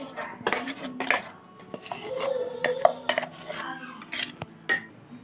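Ground dal and rice dosa batter being mixed together in a bowl for masala dosa, giving repeated wet scraping and clinking of utensil against the dish at close range, with no talk.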